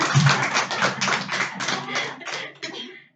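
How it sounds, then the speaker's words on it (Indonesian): A Sunday worship congregation at GBI Lewi church applauds: a burst of dense hand-clapping that thins and fades over about three seconds. "Bapak Ibu kalau tepuk tangan jangan ragu-ragu tepuk tangan"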